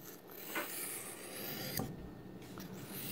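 A knife is sharpened on an oilstone, its blade making soft, close rasping strokes along the stone, quiet and fairly continuous with a few sharper scrapes.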